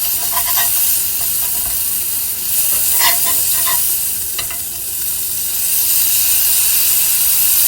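A folded birria taco cooking in a hot pan, giving a loud, steady sizzle and steamy hiss that runs unbroken throughout, with a few faint scrapes, no talk.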